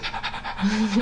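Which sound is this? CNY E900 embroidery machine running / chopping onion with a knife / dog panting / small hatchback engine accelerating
dog panting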